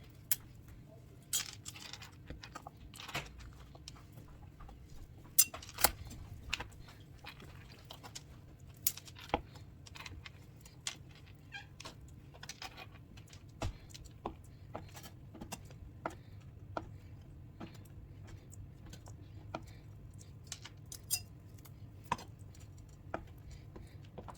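Knife chopping a block of cheese into small pieces on a cutting board, a long run of quiet, uneven taps and clicks with no talking.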